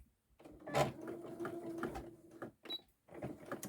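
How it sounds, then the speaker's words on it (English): A sewing machine stitches a pillowcase cuff in short bursts, its close whirring motor starting and pausing, with a few stitches run and then resumed. "I'm going to go just a couple of stitches, then back stitch to give it a good solid start, and then go ahead and sew."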